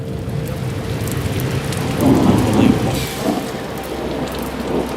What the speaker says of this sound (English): it was raining, pouring down rain.